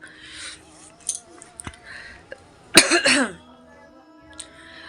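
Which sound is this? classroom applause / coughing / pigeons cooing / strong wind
coughing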